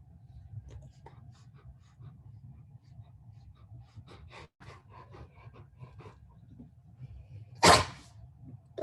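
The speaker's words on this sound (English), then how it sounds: "Did you guys hear him sneeze?" One sharp, fairly loud sneeze bursts out near the end, after quiet rustling and faint scratchy noises in a room.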